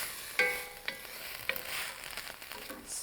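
Garlic and onions fry in a pan with a soft, continuous sizzle, broken by a few clicks and scrapes of stirring, fairly quiet and with no talking.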